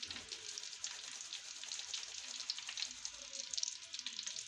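Gram flour sifted into hot ghee in a pan, a faint continuous frying hiss with light crackle, close and quiet, no talking.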